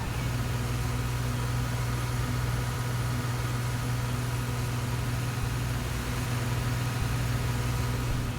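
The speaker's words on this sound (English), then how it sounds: "we're just going to wait for the ground equipment to clear" Ground service vehicles pull away from a parked airliner in the X-Plane 11 flight simulator, at an Air Italy 737 stand, as a steady low engine drone and hum run evenly throughout.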